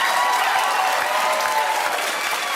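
An audience bursts into sustained cheering and applause, a dense continuous roar of clapping that holds steady before cutting off abruptly at the end.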